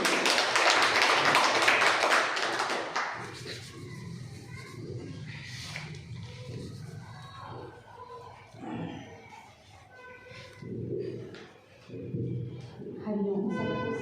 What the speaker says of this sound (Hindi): जोरदार ताली स्वागत करेंगे